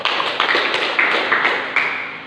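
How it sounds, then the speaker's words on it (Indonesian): Classroom audience clapping together in a burst of applause, a dense, steady patter of many hands lasting a couple of seconds with a few sharper claps standing out. "berikan aplaus"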